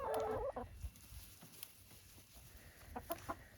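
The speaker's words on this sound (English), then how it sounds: "So the chickens are doing well." Hens in a new backyard coop cluck and squawk, a loud burst at the start followed by softer scattered clucks and short calls, close by with no talk.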